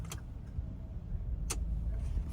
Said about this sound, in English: All right, car is started.